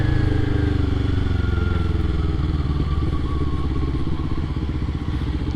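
A motorcycle engine drones steadily while riding at speed, a continuous low rumble mixed with wind buffeting across the microphone, fairly loud and unbroken throughout.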